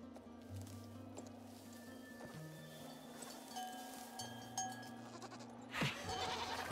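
Bleating of the Yule Goat creature in the Star Stable horse game, faint and set under game music, with soft hoofbeats and a brief thump near the end.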